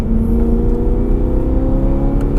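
A BMW M3 engine drones loud and steady on a race track, a constant revving note held close throughout with no clear break for a gear change.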